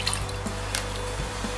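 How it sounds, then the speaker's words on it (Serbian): A liter of alcohol vinegar pours into a pot holding three liters of water for brining peppers, a brief close trickle with a few drips, alone without talk. "dodajemo litar alkoholnog sirćeta"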